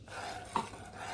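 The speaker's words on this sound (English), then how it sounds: "going to use a spoon like this to stir it around" A spoon stirs food around in a cooking pot, a soft continuous scraping close by with one brief clink of metal on the pot partway through.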